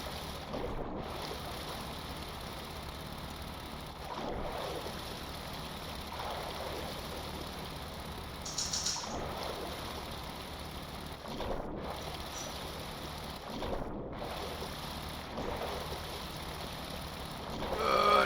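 A boat engine in the Stormworks video game drones low and steady, with a splashy watery wash over it and a few soft swells, with no talking.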